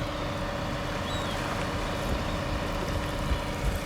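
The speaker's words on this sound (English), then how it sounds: "Marine sounds, seagulls." Marine ambience at Newport Harbor on a chilly morning after rain: a steady low rumble of boat engines and lapping water, continuous and moderately loud, with a faint high call that could be a seagull.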